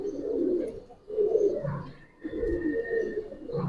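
Giribaz pigeons in a loft give repeated low, throaty coos in close, overlapping bursts with short pauses between them.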